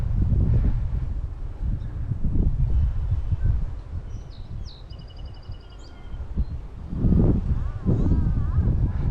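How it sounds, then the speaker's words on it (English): Wind gusts buffet the microphone beside a small creek, rumbling in low surges that fade mid-clip and return strongly near the end, with faint bird chirps above. "the wind is kind of making it difficult to cast"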